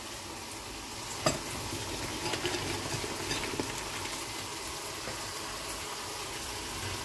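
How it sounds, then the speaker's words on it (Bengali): Chicken being sautéed in a pan, a soft steady sizzle with a sharp clack of a utensil early on and light scraping stirs, fairly quiet and close. "চিকেন কষা হচ্ছে"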